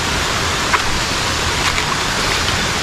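River water flows in a constant broadband rush, loud and close, an even hiss with no speech or breaks.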